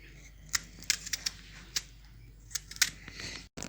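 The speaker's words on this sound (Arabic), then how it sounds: "بتقطيع البصل" Sharp, irregular knife chops on a cutting board as an onion is sliced, close and crisp against a quiet background.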